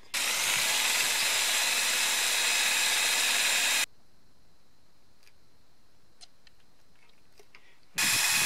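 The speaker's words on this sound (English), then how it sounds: "Where I'm drilling is going to be right through the nut that I welded in there" A power drill bores with a 1/8 bit through a nut welded onto an electric trike frame, a loud, steady whine for about four seconds. It stops abruptly, leaving quiet with faint ticks and clicks, then starts again.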